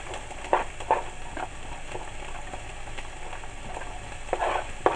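Finely chopped celery sizzles in a hot pan for a mushroom and lentil pasta sauce, a soft, fairly quiet steady frying hiss broken by a few brief stirring clicks and scrapes.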